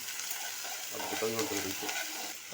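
Green chillies, curry leaves and ginger sizzle steadily in hot tempering oil for wheat rava upma, a continuous close crackle with a brief spoken phrase over it midway.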